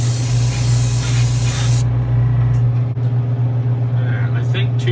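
Lacquer being spray painted onto a car hood: a loud, close, steady hiss of the spray gun that cuts off partway through, leaving a lower hum of background noise.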